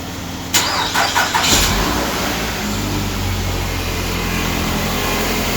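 A car engine cranks and fires after a jump boost, a few quick cranking bursts followed by the motor catching and settling into a steady, close idle.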